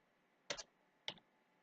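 Two quick, quiet key presses on a computer keyboard, the letter B and then Enter, about half a second apart in a silent room.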